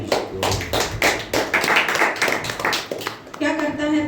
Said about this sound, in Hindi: प्रभु के लिए जोरदार ताली बजा देंगे।